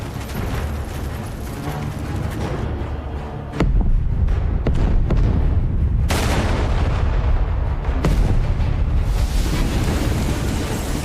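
Elite monster horde exploding in a fantasy video game, a loud continuous roar of booming blasts with sharp bursts around the midpoint, dense and overwhelming, no talking heard.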